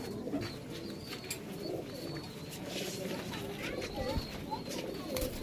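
Pigeons coo inside a pigeon shop among a mixed flock, including Malbai birds. The cooing rises steadily under a busy background, and someone talks nearby throughout.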